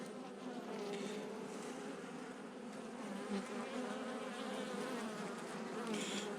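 Italian honeybees (ligustica) buzz at a hive in September, a dense, steady drone of many wings close by and fairly quiet, with no talk.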